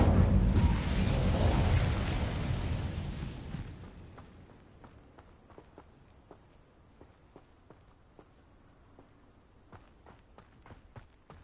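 The Incendio fire spell is cast in Hogwarts Legacy on PlayStation 5 as a loud, roaring burst of flame that fades away over about four seconds. Quiet footstep-like taps and small pops follow, with no speech.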